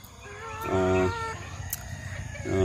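A rooster crows loudly close by, with hens clucking and faint farmyard noise behind.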